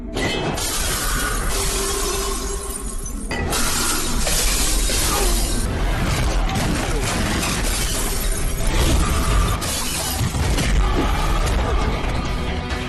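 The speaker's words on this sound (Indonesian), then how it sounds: "ia disambut dengan serangan dari botol-botol kaca yang sudah disiapkan, serta serangan bertubi-tubi yang dilayangkan oleh Petri" Glass bottles smash repeatedly during a violent brawl, a dense, continuous crash and shatter of breaking glass with no clear pauses.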